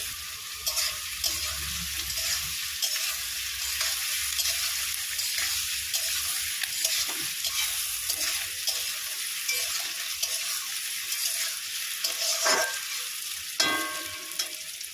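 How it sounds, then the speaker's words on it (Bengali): A pan sizzles steadily as onions and potatoes fry, with occasional scraping stirs and a few sharp clinks near the end. "আলুটাও কেটে রেখেছিলাম, পেঁয়াজের সাথে একসাথে ভেজে নেব"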